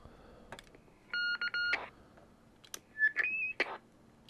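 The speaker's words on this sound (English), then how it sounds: "on the Roadmaster, there's our K-tone" A Roadmaster CB radio fitted with a Cybernet 134 board sends its K-tone selcall, a short run of clean electronic tones and beeps, clear and close amid faint clicks and background noise.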